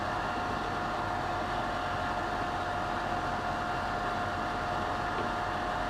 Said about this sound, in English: that noise is a 24 volt cabinet extraction fan